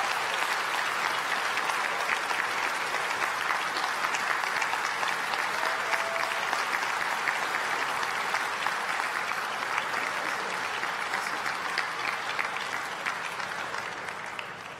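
An assembly of delegates at a churchwide plenary session applauds after a vote is adopted, sustained dense clapping from a large hall that holds steady and then starts to fade near the end.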